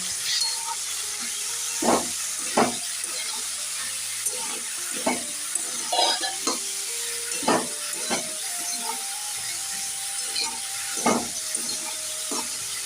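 Spices and onions stir-frying in a hot pan before chopped spinach goes in, with a steady sizzle broken by repeated scraping and clacking strokes of a spatula, close and fairly loud.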